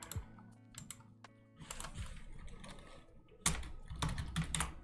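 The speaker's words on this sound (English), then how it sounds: "Maybe you can get some good keyboard ASMR out of this" Computer keyboard typing during a programming session, with quick bursts of clattering keystrokes separated by short pauses, close and fairly quiet, with no talking.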